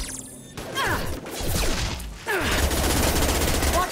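Gunfire in the Mass Effect 2 Legendary Edition video game, a dense run of rapid shots and impacts with rising bursts, loud and close, continuing through the whole stretch.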